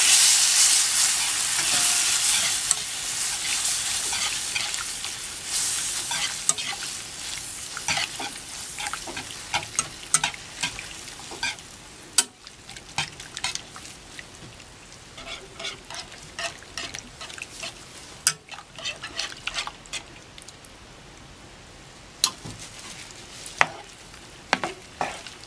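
Steady frying sizzle in a hot pan with repeated spoon scrapes and clinks as a buko and jackfruit pie filling is stirred, loud at first then settling into intermittent stirring.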